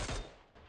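A burst of gunfire in the PUBG Mobile battle game: a loud, sharp volley of shots in the opening fraction of a second, then a decaying echo tail with no speech over it.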